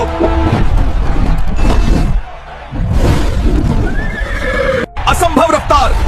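A horse whinnies loudly near the end of a busy, dramatic mix of rumbling effects and crowd-like noise, its shrill neigh rising then wavering.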